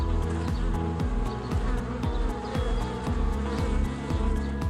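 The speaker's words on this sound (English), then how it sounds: "The tireless movement of thousands of bees is closely linked to the life of these wild trees" Thousands of bees buzz steadily around wild Sieversii apple trees, a dense, continuous hum with individual insects passing close and loud over a low, droning background.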